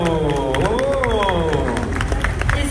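An audience applauds and cheers at a dubbing convention as a performer takes the stage, with dense clapping and crowd noise under a voice speaking over it throughout.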